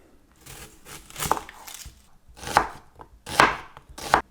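A knife chops a red onion on a board in loud, close, irregular strokes with quiet gaps between them, and the blade thuds against the board with a crisp crunch on each cut.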